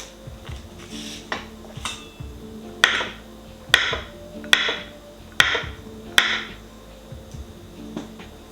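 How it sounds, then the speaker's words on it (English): A knife chops butter into pieces on a board for rhubarb muffins, giving about seven crisp, evenly spaced taps with softer clicks between them, close and clear, with no talking. "Just cut it into pieces so that it melts a little bit easier."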